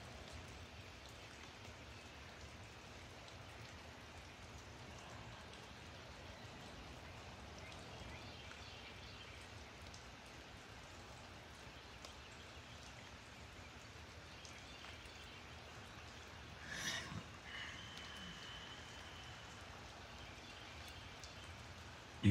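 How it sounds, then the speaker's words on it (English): Steady rain patters on a surface outdoors, a soft even hiss that continues for the whole stretch, with one brief louder splash near the end and no voices. "Look at that rain just rolling off of it."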